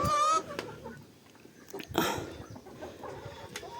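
Chickens cluck and squawk nearby while eating a mix of zucchini, cheese and crushed grain, with a sharp call at the start and a burst of scuffling activity midway, soft clucks continuing throughout.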